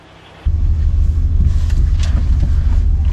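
A VW Golf R32 with the 3.2 engine, a restored barn find, fires up and settles into a loud, steady, raspy rumble that carries on without a break.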